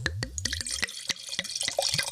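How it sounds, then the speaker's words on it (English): Eco Terreno Sauvignon Blanc from Alexander Valley is poured into a glass, giving a close, continuous trickling splash with quick drips and glugs. "a very hot day pour with an Eco Terreno Sauvignon Blanc"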